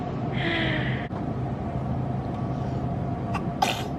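A single quick sneeze bursts out near the end, over steady low background noise.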